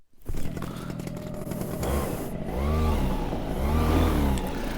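A paramotor engine fires up and revs in surges toward full power, its pitch sweeping up and dropping back twice, loud and near, with a rattling mechanical clatter underneath.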